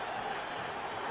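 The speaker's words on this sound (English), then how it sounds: "What an energized crowd here now" Stadium crowd at an NFL game between the Philadelphia Eagles and Cleveland Browns, a broad, continuous roar of cheering and noise from the stands, heard from a distance and holding steady throughout.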